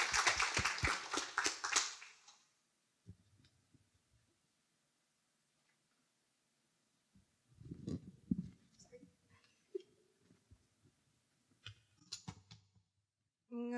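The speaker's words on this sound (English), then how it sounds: "let's give a nice round of applause" Audience applause at a Drupal NYC meetup at 30 Rockefeller Plaza: a dense burst of clapping for about two seconds that quickly dies out, followed by scattered clicks, handling noises and brief talking.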